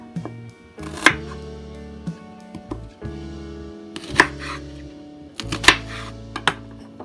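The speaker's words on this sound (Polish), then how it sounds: "Teraz cebulkę to w ten sposób pokroję." Knife slicing through an onion on a cutting board, heavy uneven chops spaced a second or so apart, each a sharp close knock against the board, with quiet pauses and soft handling noises between strokes.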